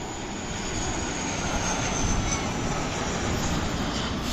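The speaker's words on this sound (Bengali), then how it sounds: "বিমান বাংলাদেশ এয়ারলাইন্সের -8-400 মডেলের এই বিমানটি সিলেট থেকে 36 মিনিট পথ উড়ে ঢাকায় নামছে" A Biman Bangladesh Dash 8-400 turboprop lands at Dhaka after a flight from Sylhet, giving a steady, loud, broadband engine roar with a high whine, continuous throughout and without talk.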